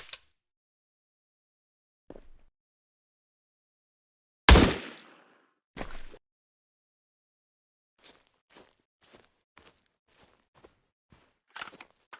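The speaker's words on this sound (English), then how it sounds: "See somebody else over there shooting" Gunfire at a police training exercise: two loud, sharp reports ring out close by, then a scattered string of fainter, distant pops follows, with silence between shots and no talking.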